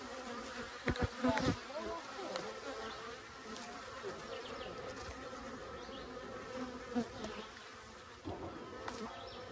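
Honeybees swarm densely around an open hive during maintenance with a queen excluder, a steady close buzz with sharp louder swells as individual bees dart past near the listener.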